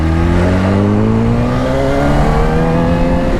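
A 2005 Yamaha R1 superbike engine drones steadily and loudly while riding, its rising harmonic tones showing a smooth, gradual climb in revs without a break.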